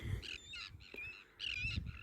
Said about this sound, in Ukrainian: Тут гудить море і птахи.